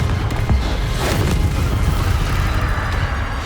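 Fiery magical blast from the Confringo spell in Hogwarts Legacy on PC: a loud, dense, sustained rumble of explosive bursts with booming low end, continuous for a few seconds without speech.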